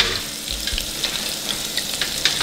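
Rib tips deep frying in hot oil, a loud continuous close bubbling sizzle with occasional sharper crackles and pops throughout.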